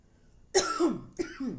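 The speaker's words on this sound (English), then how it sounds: "excuse me, confirmation on the cough." Two quick, fairly soft coughs in succession, each a short raspy burst with a slight throat-clearing quality, with quiet between them.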